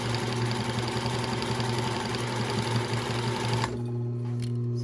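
A sewing machine stitches steadily through a multicolored rope basket, a loud continuous motor hum with rapid needle rhythm that stops abruptly near the end, leaving a low residual hum.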